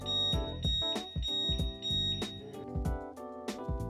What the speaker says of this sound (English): Push the scooter in lock mode, and the alarm will serve as your alert system.